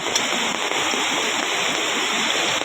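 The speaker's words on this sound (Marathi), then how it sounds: "या सगळं पाणी आम्ही सांडीवरनं खाली जातेला तर बघा" Loud, continuous roar of a flooded river's water rushing over a spillway during heavy monsoon rain in Konkan, India, dense and unbroken throughout, close by.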